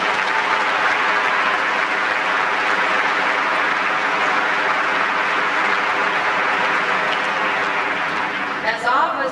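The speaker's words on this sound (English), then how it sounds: "Please give them your applause." Audience applauding at a 1999 high school graduation ceremony, sustained dense clapping across the whole stretch, fairly loud and even, with a brief different sound near the end.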